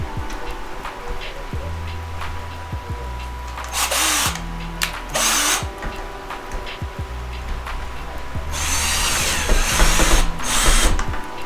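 Power drill driving a small screw into a grill mount on a Ram 1500, several loud whirring bursts of a few seconds each, close up, separated by pauses filled with a steady background hum.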